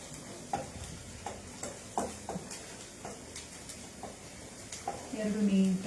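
Garlic cloves frying with onion in a pan on medium flame, a soft steady sizzle broken by several scraping stirs and clicks of a utensil, with a louder burst of frying near the end.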